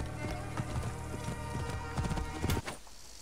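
Horse hooves clip-clopping at a gallop in the video game Assassin's Creed Origins, a steady rapid rhythm with game music and effects mixed in, fairly loud and close, ending abruptly near the close.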